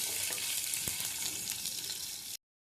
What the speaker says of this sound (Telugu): ధనియాలు వేసుకుందాం, జీలకర్ర వేసుకుందాం, పచ్చిమిర్చి వేసుకుందాం, కలుపుకుందామండి. కొంచెం వేగనిచ్చుకోవాలి.